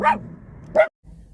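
Two loud, close barks from dogs outdoors during a backyard picnic lunch, spaced under a second apart, then a brief hush with faint background noise.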